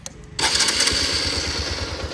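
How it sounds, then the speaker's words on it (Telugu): A Hero Xtreme 160R motorcycle engine starts up, a brief crank giving way to a steady, loud idle with a rapid low throb that continues evenly to the end. "నెక్స్ట్ ఇక్కడ ఇంజిన్ అయితే స్టార్ట్ చేస్తాను"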